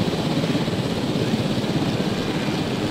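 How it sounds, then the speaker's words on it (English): Helicopter rotor and engine noise from the Jurassic World Evolution video game, a steady loud whirring drone that holds without a break for the full stretch. "Seriously, this freaking helicopter would probably crash."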